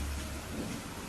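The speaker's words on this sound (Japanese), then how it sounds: "夕方から雨が降り始め、遠くでは雷鳴が轟いていた。" Heavy rain pours down steadily while deep thunder rumbles low underneath, a dense and continuous evening storm with no voices.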